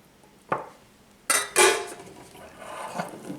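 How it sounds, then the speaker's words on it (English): Chocolate being mixed into whipped cream for a chocolate mousse, heard as a few brief scraping and clinking strokes of a utensil against a bowl, close by, with quieter rubbing between them and no talk. "then we're going to mix the chocolate in to the whipped cream"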